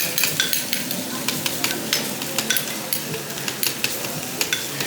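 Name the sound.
food sizzling on hot pan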